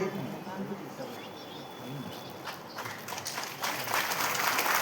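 A crowd at a gathering claps for the country's doctors, the applause swelling from a soft patter into louder, denser clapping toward the end, with voices in the mix.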